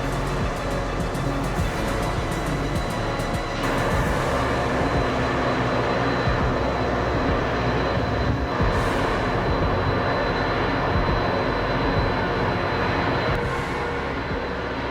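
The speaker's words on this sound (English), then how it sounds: "Hear it, and you know the train is coming." An EMD F40 diesel locomotive rumbles past with its train, a loud, continuous roar of engine and rolling wheels that holds steady and close for the whole stretch.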